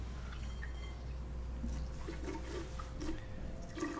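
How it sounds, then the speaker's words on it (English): Water poured into a bottle, a steady close gurgle and trickle of liquid with a low background hum, no talking. "If I pour water into this bottle"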